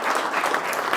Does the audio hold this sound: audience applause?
yes